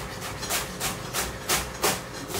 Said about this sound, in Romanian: hai să le pun împreună și le tai pe toate mărunt